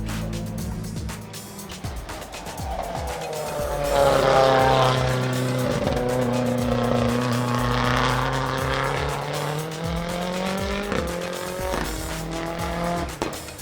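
Rallycross race car engines roar loudly and continuously at Bushy Park, Barbados, during a Red Bull Global Rallycross event, with rising and falling revs as cars pass close by, plus brief tire squeals.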